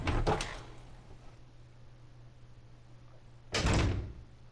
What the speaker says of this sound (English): And we unlock this door, and this door would lead us back to the main hall.